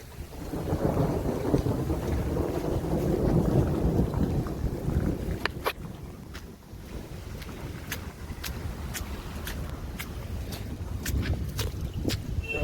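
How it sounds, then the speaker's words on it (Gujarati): Heavy rain pours down over a village during an unseasonal summer downpour, a steady broadband wash with rumbling thunder early on, followed by sharp repeated drips or taps as the rainfall continues. "આજે અમારા ગામમાં છે બહુ વરસાદ તમે જોઈ શકો છો"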